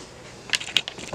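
Two sharp metallic clinks close together, like a set of keys being set down on a hard surface, with a few smaller rattles after.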